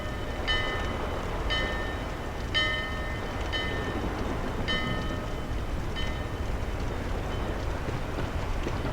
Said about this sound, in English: is pull the handle. Ring the bell like that.